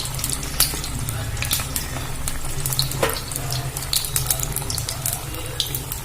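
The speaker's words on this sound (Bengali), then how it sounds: "আমি এগুলো খুব ভালো করে ভেজে নেব।" Semolina langcha sweets frying in a pan of oil, a steady dense crackle and sizzle with scattered sharper pops, close and continuous throughout, no talking.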